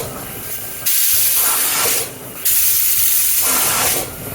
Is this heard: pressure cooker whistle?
yes